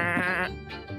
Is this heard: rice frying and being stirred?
no